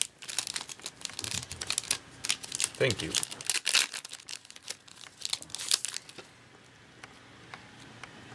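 Crinkly plastic wrapper of a Cardfight Vanguard card booster pack being torn and crumpled in bursts, close up, with a brief voice speaking partway through.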